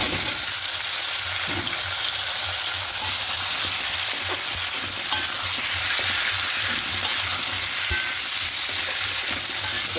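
Loud, continuous sizzling of papaya and potato frying in oil with melted tomato and onion, with occasional scraping from stirring, steady throughout and close.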